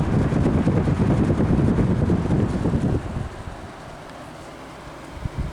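Friedrich HVAC unit in a Holiday Inn Express & Suites room in Lincoln, NH runs with a loud, steady fan roar that drops to a quieter hum partway through, heard close with no talk.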